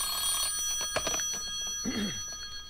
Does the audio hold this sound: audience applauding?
no